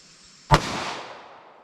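A single close, sharp gunshot from a .380 ACP pistol is fired over a chronograph, followed by a decaying echo, with no talking.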